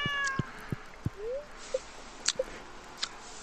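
A cat meows several times in short separate calls spread across a few seconds, close and clear, with faint small clicks between them.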